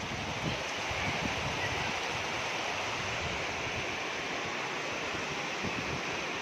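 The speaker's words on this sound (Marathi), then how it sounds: "खूप मोठा पाऊस आहे" Heavy rain pouring outdoors near sugarcane fields in a gusty storm, a dense, unbroken hiss and roar that stays loud and even from start to finish, with no talk.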